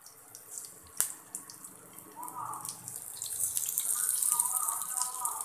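Oil-filled okra stuffed with filling is placed piece by piece into hot oil in a pan, giving a soft, hissing sizzle that grows steadily louder after a light clunk near the start.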